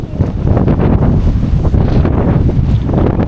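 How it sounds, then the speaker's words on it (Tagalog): Strong wind buffets the microphone along a lakeshore, a steady loud low roar with gusting rumble throughout and no voices. "Yan lang, pero sobrang hangin."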